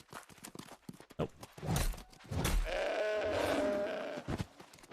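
A sheep bleats in the New World video game, a sustained wavering cry following a few hoof-like clops and thuds.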